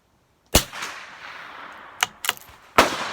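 A Valmet Standard .22LR match rifle fires, a single sharp crack at close range followed by a short fading tail, then a few quick clicks and clacks of the action and a second report near the end.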